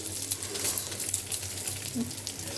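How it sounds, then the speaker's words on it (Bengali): Two eggs sizzling in a frying pan on a home stove, a soft, steady crackle and hiss heard close but quietly, with faint kitchen clatter in the background. "জাস্ট দুটো ডিম ভাজবো"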